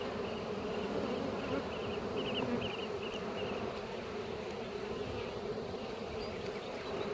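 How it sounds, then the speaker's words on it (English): Honey bees drone steadily inside an open hive during an inspection, a dense close buzz holding even and unbroken throughout with no voices. "There are all these bees in here measuring out how to build."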